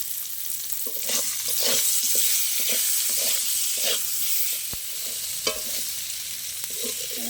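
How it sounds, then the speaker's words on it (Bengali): Potato pieces frying in oil with turmeric and salt, a steady hissing sizzle with the scrape and clatter of a spatula stirring them in the pan at intervals, no speech. "আলু ভাজা হয়ে গেছে আমার, তুলে নেব।"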